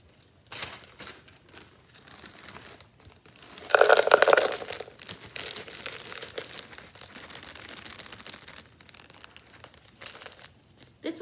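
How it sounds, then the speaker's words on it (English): Soil and gravel poured from a bag into a clear plastic container for a terrarium, with crinkling plastic and a short, louder burst of rattling gravel partway through, close and otherwise quiet. "you'll take the bag that has the soil and the gravel in it and dump that into your clear plastic container"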